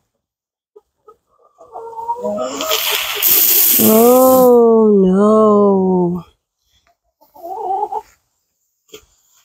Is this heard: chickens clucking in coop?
yes